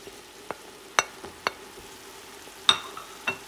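Chow mein vegetables with flat leaf parsley and chow mein seasoning are stirred in a pan, a few sharp scraping clinks of the utensil over a faint background sizzle.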